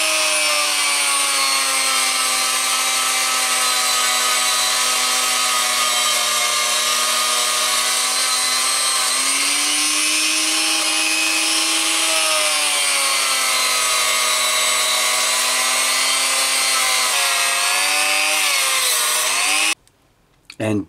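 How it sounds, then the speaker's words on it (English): A Dremel rotary tool polishes aluminium parts to a brushed finish, giving a loud, sustained high-pitched whine that shifts slightly in pitch under load before cutting off near the end. "So I'm going to switch to a smaller one and use a Dremel."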